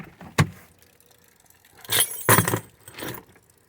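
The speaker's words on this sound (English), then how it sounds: "as my keys hitting the floor of the vehicle" Keys dropping onto the floor of a vehicle, giving a few sharp metallic jangles and clinks in quick bursts, loud and close in an otherwise quiet cabin.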